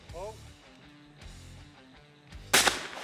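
Gunshots at a men's shooting competition in the PSCA Caney Creek top-eight final, heard as one loud, sharp report near the end after a stretch of low background and crowd murmur, with no clear talk over it.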